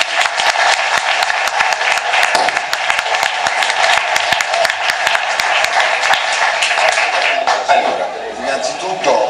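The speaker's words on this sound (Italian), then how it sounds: "con un applauso Carlo Frecchelli." Audience applauding a speaker at a public talk, dense sustained clapping from a crowd that carries on steadily and starts to fade near the end.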